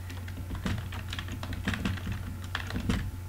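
Fingers type on a computer keyboard, a quick irregular run of close, crisp key clicks over a low steady hum, with no voices.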